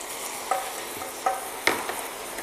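Hot milk poured into salted butter caramel in a pan off the heat, bubbling with a soft steady hiss and three sharp splashy bursts spaced across the clip.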